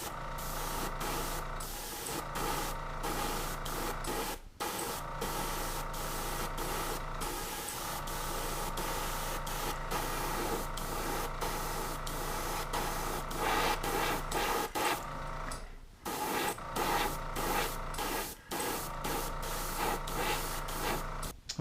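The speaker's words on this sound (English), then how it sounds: "We're just going to start with light coats. You can always add in more paint." An aerosol can sprays light coats of paint over masking on an exploding Death Star model. The close hissing bursts run long and steady, broken by brief pauses, with no talking.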